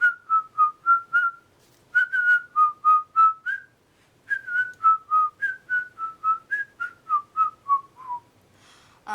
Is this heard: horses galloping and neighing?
no